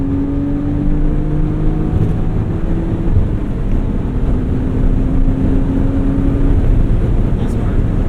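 1999 Dinan BMW M Roadster accelerating hard, a steady engine drone rising in pitch through the gears, heard from inside the cabin with wind noise throughout.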